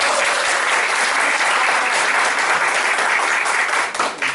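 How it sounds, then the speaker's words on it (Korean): A congregation at a Korean Sunday church service claps loudly and continuously to welcome guests, a dense steady applause that thins out near the end. "우리 박수로 한번 환영하겠습니다"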